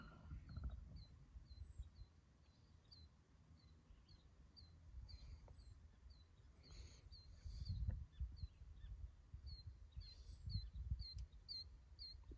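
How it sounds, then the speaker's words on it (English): Small birds chirp in repeated high, thin calls on a quiet morning at Search Bay, with a seagull among them, over a low rumbling outdoor background, steady and moderately distant, no voice. "Birds are making a bit of a racket."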